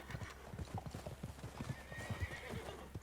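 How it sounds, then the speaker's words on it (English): A horse in the Red Dead Redemption 2 video game clip-clops on the ground with uneven hoofbeats close by, and a drawn-out neigh rises partway through over a quiet outdoor background. "I'm gonna get this packed on my horse."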